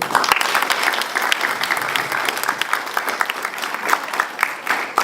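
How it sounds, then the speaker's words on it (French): An audience at a film event applauds steadily, a dense, even wash of clapping from a crowd that holds at moderate loudness throughout without voices. "Et pour ça, il faut l'applaudir."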